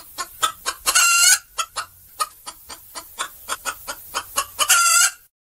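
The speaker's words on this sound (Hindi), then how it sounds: "तभी उसे मुर्गे की आवाज सुनाई दी" A rooster crowing in a farmyard setting, two loud, drawn-out crows framed by a series of short, sharp clucks, close and clear with no talk.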